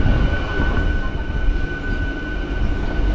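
A MEMU passenger train between Mettupalayam, Coimbatore and Podanur rolls along with a steady low rumble and a thin sustained whine above it, continuous throughout without any voices.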